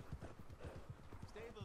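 Horse hooves clip-clop in Red Dead Redemption 2, a steady, even rhythm of close hoofbeats that carries on beneath a voice talking.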